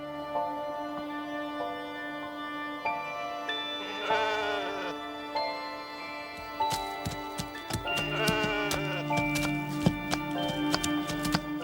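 Wild sheep ewes bleat in rocky, precipitous mountain terrain, a few wavering calls standing out clearly over steady background tones, with sharp ticking clicks scattered through the second half.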